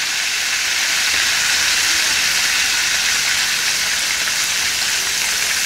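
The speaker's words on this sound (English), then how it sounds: "we want to cook our liver at least 2 to 3 minutes on each side" Liver frying in a pan, giving off a steady, loud hiss and sizzle that stays broadband and constant throughout with no pauses.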